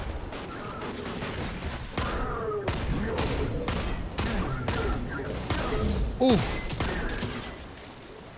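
Hand cannon fire in Destiny 2: a run of heavy, evenly spaced booming shots over busy combat noise, with a brief exclaimed voice partway through.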